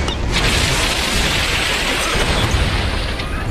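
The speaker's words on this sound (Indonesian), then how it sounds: "Malah kita yang meledak aduh." An explosion in Grand Theft Auto San Andreas Definitive Edition gameplay, a loud sustained roaring blast with crackling debris that fills the whole stretch without a break.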